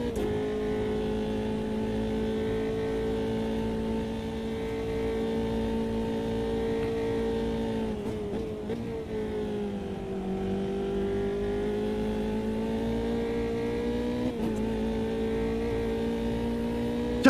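A Mitsubishi Lancer's engine drones continuously in an Automobilista 2 race, a steady, close, high-revving tone that dips briefly as it shifts gears and then climbs again, with no voices.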